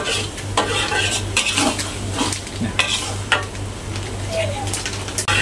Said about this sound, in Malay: Ini kita goreng dia sampai macam minyak ada garing.